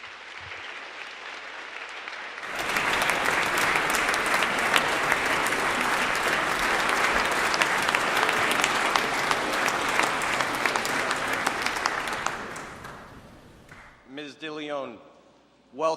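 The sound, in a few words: welcoming applause in the House Chamber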